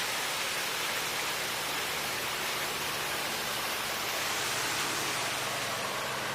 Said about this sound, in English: there is a small waterfall here